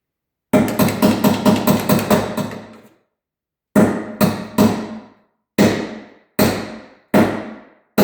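Small metal ball peen hammer tapping a metal tab on an LBZ Duramax truck grille, a fast run of about ten sharp close taps, then after a pause five slower, separate strikes.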